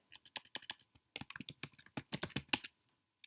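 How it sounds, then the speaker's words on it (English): Quiet typing of a password on a computer keyboard, with a run of light, irregular key clicks, a brief pause, then a denser burst of keystrokes. "Type in my password."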